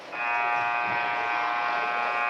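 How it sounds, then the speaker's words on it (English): A loud, harsh electronic buzzer sounds at a high school boys basketball game in Muncie, switching on abruptly and holding a steady nasal tone for over two seconds. "There's a buzzer, meaning we are ready for the final 8 minutes of this ball game"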